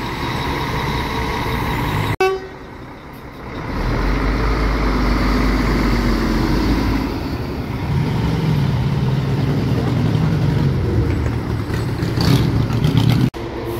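A Marcopolo G7 coach pulls in at the Sorocaba bus station platform in São Paulo, its loud, close engine droning steadily with low rumble, a brief air hiss near the start and end, and station ambience around it.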